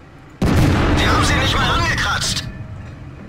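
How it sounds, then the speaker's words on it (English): A tank cannon fires in a video game at a T95's gun mantlet, a single loud boom with a sharp onset that rolls into a long rumbling tail and fades over a couple of seconds. "let's go ahead and take a shot at the thickest part of the tank, right down the mantlet"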